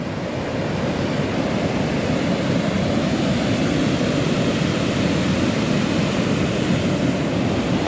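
A Norwegian waterfall pours in a steady, loud rushing roar close by, an unbroken wash of falling water with no voices over it.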